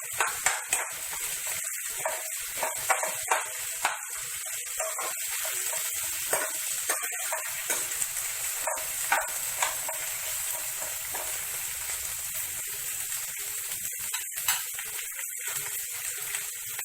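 Malwani-style crab masala with chilli and coriander stirred in a hot pan, a bright continuous sizzle with intermittent scraping and clinks of the spoon, close and steady.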